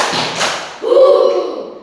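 A classroom of students claps together in a short burst during a coding and computational thinking lesson, a brief cluster of loud near hand claps followed by voices chanting.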